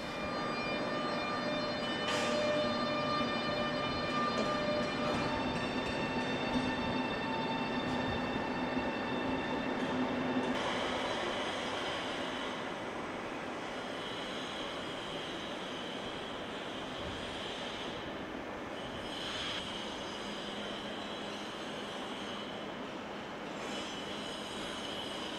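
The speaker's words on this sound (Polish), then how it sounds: "Nowoczesny pociąg Pendolino, którego odjazd śledziliśmy w dzisiejszym programie" A modern Pendolino train departs from Gliwice station, its steady rolling rumble and high electric whine sustained throughout, with faint passing clanks and squeals as it pulls away from the platform.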